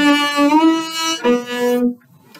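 Bowed cellos play a short smooth legato phrase, notes gliding into one another, then stop, leaving near silence.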